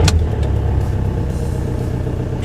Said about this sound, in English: So normally when I start the car now, after being stopped for a few minutes or even just a few seconds, this would take a few seconds at least to start.